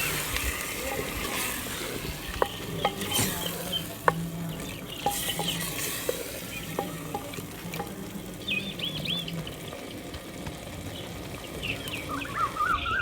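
Brain (bheja) is stirred into sizzling masala in a village kitchen: a continuous frying hiss with spoon scrapes and clicks close up, and birds chirp faintly near the end.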